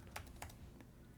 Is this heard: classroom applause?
no